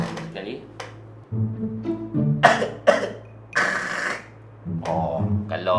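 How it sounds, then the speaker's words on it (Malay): A person coughs up close several times in short, harsh bursts, broken by brief voiced throat sounds and pauses. "Saya batuk. Batuk bunyi."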